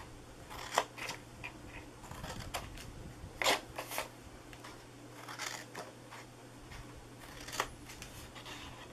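Scissors snip through card while cutting out the pieces of a Christmas mailbox treat box, a scattering of quiet, crisp cuts spaced irregularly over a faint, steady room hum.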